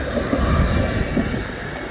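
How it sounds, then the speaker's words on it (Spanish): A tram rolls past on Bernauer Straße in Berlin, a close, steady rumble of wheels on rails with a faint high squeal running through it. "Vamos a esperar que pase el tranvía."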